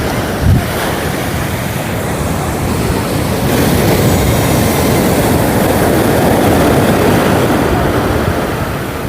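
Loud, steady sea surf rolls and crashes onto Porbandar Chowpatty beach, a continuous roaring wash of waves with strong wind noise hitting the microphone.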